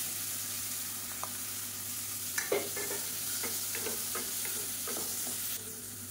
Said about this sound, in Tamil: இப்போ தக்காளி ஓரளவுக்கு நல்லா வதங்கிடுச்சு.